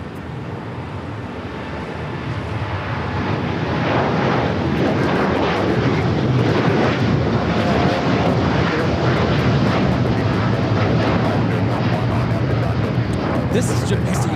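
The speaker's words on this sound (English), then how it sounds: "This is Jockeys 1 taking off to Tokyo Narita on the 787-9 Dreamliner" A Boeing 787-9 Dreamliner takes off from LAX bound for Tokyo Narita, its jet roar building from moderate to loud and holding steady, broad and continuous.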